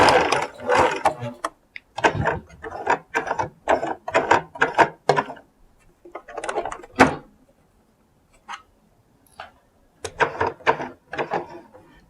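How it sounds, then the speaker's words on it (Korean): A sewing machine stitches a collar for a collared blouse, with bursts of rapid mechanical clatter near and loud, broken by short pauses and a few single stitches. "박음질을 해줍니다."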